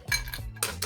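Ice cubes clatter into a mixing glass or shaker for a pre-made cocktail, a few close, bright clinks and rattles in quick bursts with no talking.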